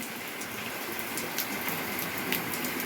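Rainwater leaks through a tiled roof and falls into a room, a steady patter of drips and trickling water with occasional louder drops.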